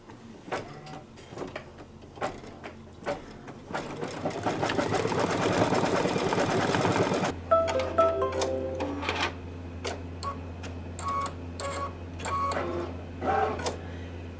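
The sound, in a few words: embroidery machine stitching tack down stitch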